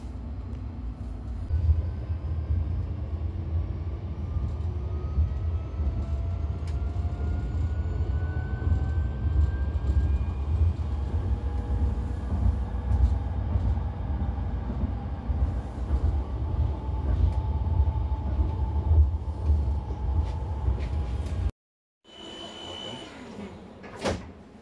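Steady low rumble of a moving tram heard from inside, with rising and falling motor whine and rail noise throughout, a brief cut near the end, then the ride resumes.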